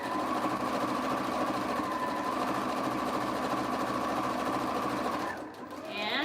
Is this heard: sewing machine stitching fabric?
yes